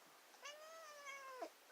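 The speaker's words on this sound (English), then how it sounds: "It's my little cat." A small pet cat lets out one drawn-out, clear meow close by, lasting about a second and ending in a short upward chirp, with no voices.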